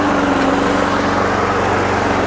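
Small lawn mower engine running after a Seafoam carburetor treatment, a steady close mechanical drone with a low rhythmic chug, loud and continuous without any voices.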